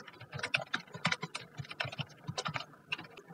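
Quick, uneven clicking of keys on a computer keyboard as code is typed, close and clear with short pauses between bursts of keystrokes.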